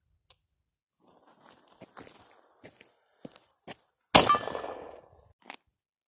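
A miniature artillery cannon fires once with a sharp, loud crack and a short fading tail, set apart from scattered faint clicks and handling noises in an otherwise quiet scene.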